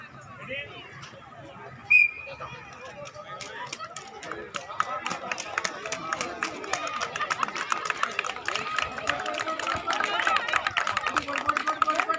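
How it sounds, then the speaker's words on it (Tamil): One short, sharp whistle blast starts a skating race at Muthu Nagar beach in Thoothukudi, then a building clatter of skate wheels and running feet with crowd voices in the background. "விசில் சத்தம் கேட்டோன்னே போயிடலாம்"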